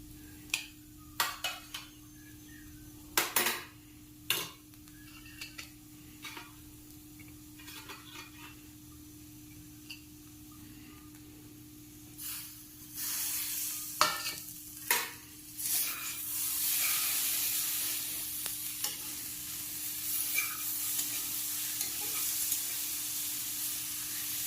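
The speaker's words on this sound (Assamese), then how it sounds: "মই ঢাকনিটো উঠাই দিলোঁ আৰু চানাখিনি এনেকৈ লাৰি দিব" Chickpeas (chana) for chana masala being stirred in a pan after the lid comes off, with scattered clinks and scrapes of the spoon at first, then a steady, building sizzle of frying. Nobody speaks.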